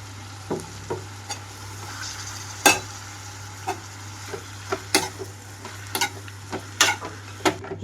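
Fenugreek leaves are stirred into a tempering with softened tomato, a quiet sizzle underneath sharp, irregular clicks and scrapes of a spatula against the pan.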